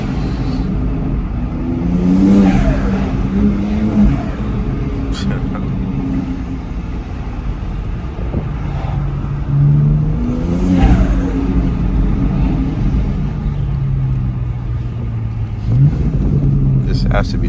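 A car fitted with an RK Tunes X3M front mount intake revs loudly and up close, with rising and falling engine sweeps repeating across the stretch and a steady idle drone in between.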